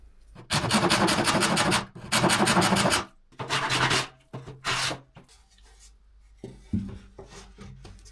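Rasping strokes of a hand tool trimming the scribe edge of a wooden wall cabinet to fit an uneven wall, coming in several loud bursts of about a second each with quieter pauses and a few small knocks between them.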